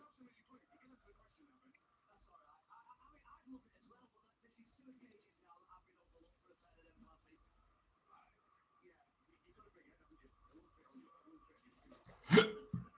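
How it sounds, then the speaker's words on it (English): A person hiccups once, sharp and loud, near the end, while waiting for a Manchester United v West Ham kickoff; before it, only faint scattered murmurs and small sounds in a quiet room. "Excuse me, got the hiccups."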